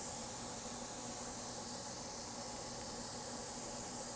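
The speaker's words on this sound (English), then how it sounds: "Just blowing the air on it helps it dry." Spray gun blowing a steady stream of compressed air to dry a freshly sprayed plating coat, a continuous close hiss without a break.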